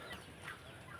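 Ducks kept in a separate pen on a farm as future breeders give a faint, brief call near the middle, set against steady low background noise.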